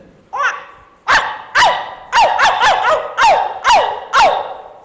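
A voice imitates puppies barking: seven or eight short, high yips in a quick, fairly regular series, close and loud.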